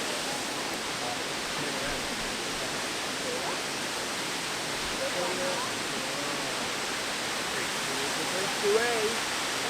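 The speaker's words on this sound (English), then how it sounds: "Come look at the waterfall." Constant rushing water from a waterfall at Pictured Rocks, a dense broadband roar that stays steady throughout, with faint voices occasionally audible beneath it.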